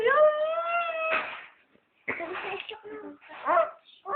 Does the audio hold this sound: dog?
yes